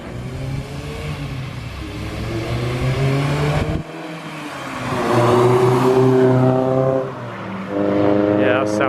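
Honda CRX Si with a Type R engine swap revving hard, the engine pitch climbing and falling through several loud throttle blips with a brief drop in between, close to the car.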